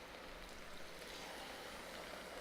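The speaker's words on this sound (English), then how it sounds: "Add about a cup of water." A cup of water pours into a pot of simmering eggplant and ground beef for smothered eggplant, giving a steady, close hiss and splash that runs evenly for a couple of seconds with no talking.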